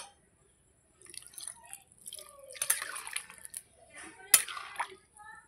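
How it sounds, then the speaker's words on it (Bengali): Water poured into a simmering curry of new potatoes and duck eggs, faint trickles and small splashes with a sharp clank of a utensil, mixed with scattered quiet kitchen sounds. "আর একটু জল দেব।"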